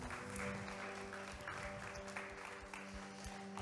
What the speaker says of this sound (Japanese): イエス様に大きな拍手しましょう。